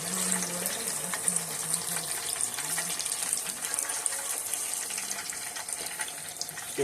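Battered fish lowered into hot frying oil, giving a steady, close sizzle with dense crackling and popping that continues unbroken throughout, with no voices.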